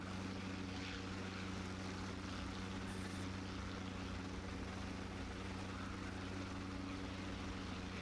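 A propeller airplane engine in a flight simulator video game gives a steady, low droning hum that holds constant throughout, faint and with no voices over it.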